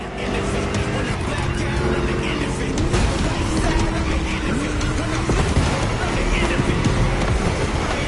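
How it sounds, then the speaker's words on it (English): A deep, rumbling V8 engine in the video game The Crew Motorfest drones steadily, shifting pitch as it revs, with a voice talking over it throughout. "Just listen to that V8 like a chunky, down-tuned guitar riff"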